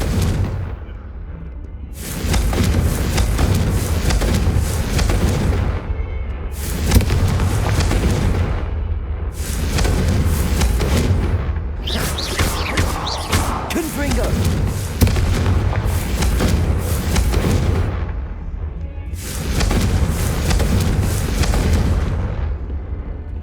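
Confringo fire spell explosions in Hogwarts Legacy boom repeatedly in heavy, roaring bursts, about five or six blasts with brief gaps between them, loud and close.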